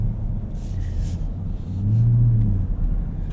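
A 2024 Ford F-150 Raptor R on the road, its engine a steady low rumble that swells into a louder, sustained drone midway through before easing slightly, with no voices.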